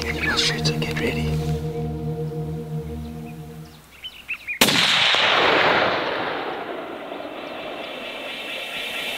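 A single loud, sharp rifle shot fired while hunting in South Africa with Norma Bondstrike ammunition cracks out after speech, then a long echo rolls away over open country and fades slowly.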